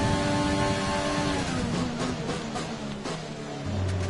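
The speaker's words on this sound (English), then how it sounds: "Yeah, it does make a different sound in 8th gear" A Formula 1 car engine in the F1 2020 racing game holds a steady, high-pitched whine in 8th gear at race pace, loud and continuous with a slight fall in pitch toward the end.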